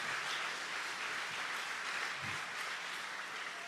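Applause for Jesus from a church congregation during a communion service, steady continuous clapping heard alone at a distance, fairly quiet and even throughout.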